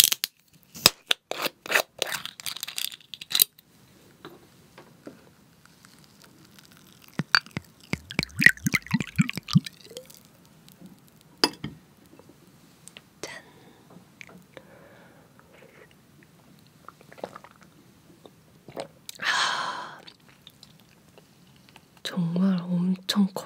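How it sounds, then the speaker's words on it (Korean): Marinated king tiger shrimp is eaten up close, with wet clicks, snips and chewing bursts spread between quiet gaps, and soft whispered talk in places. "오늘은 킹타이거 새우장 먹어볼게요"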